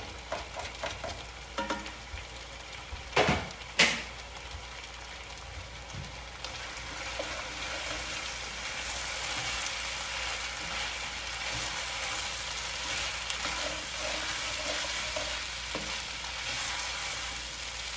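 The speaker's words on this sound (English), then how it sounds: "So I'm going to saute this for about 5 minutes, maybe a little less" Green garlic and spring onions sauté in a pan, beginning with a few loud clatters as they go in, then settling into a steady, close sizzle that runs on alone.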